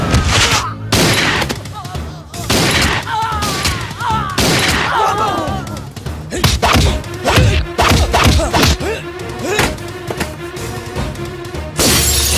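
Rapid bursts of gunfire and shattering impacts from an action scene in a Telugu movie, loud, dense and repeated, mixed with thuds and brief shouts.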